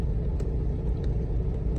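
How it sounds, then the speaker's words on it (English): A Freightliner Cascadia truck engine idling while parked with a regen-required fault, a steady loud low rumble close by with faint periodic clicks, no voices. "The truck was turned off, but I just turned it on."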